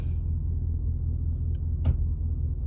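Low, steady exhaust rumble from a Jeep SUV with a newly fitted aftermarket exhaust, a continuous deep idle grumble with one brief sharper burst near the end, heard alone without talk.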